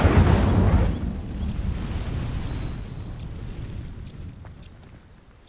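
A burst of magical fire from the Incendio spell in Hogwarts Legacy, a loud whooshing blast that flares up sharply at the start, then rumbles and crackles as it slowly fades away.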